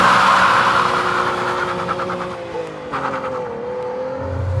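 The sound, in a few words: car engine downshifting while driven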